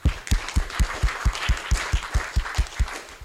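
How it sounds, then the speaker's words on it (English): A conference audience giving a quick round of applause, heard as a steady rhythmic run of about a dozen evenly spaced, fairly close hand claps. "Just a quick round of applause"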